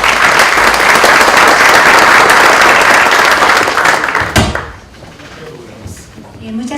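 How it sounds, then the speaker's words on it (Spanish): Loud applause from an audience welcoming a speaker at a lecture on the April 16 earthquake, sustained clapping for about four seconds that cuts off with a thump, then quieter room noise and faint voices. "Recibámosle con un fuerte aplauso,"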